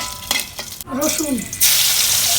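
Onion, green chili, garlic and dried chili hit hot oil for a jute-leaf stir-fry, and a loud, steady sizzle surges up and continues after a short stretch of nearby talking.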